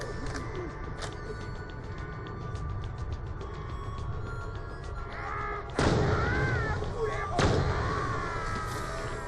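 Rapid-firing weapon in the shooter video game Borderlands: The Pre-Sequel, a string of sharp, fast gunshot bursts and impacts over steady game ambience, louder blasts near the end, with someone talking over parts of it.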